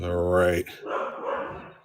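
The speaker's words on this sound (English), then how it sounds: "And the dogs are going crazy as well." Several dogs bark and yelp excitedly in a home as someone arrives, loud and close at first, then a voice takes over while the barking drops back.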